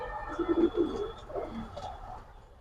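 Silver military jabra pankhi pigeons coo softly nearby, a few low throaty burbling calls in a short run with faint background noise.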